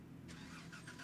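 A car engine in the video game Gold Rush: The Game cranks to life partway through and runs on with a steady mid-pitched hum, close and alone over a low background drone.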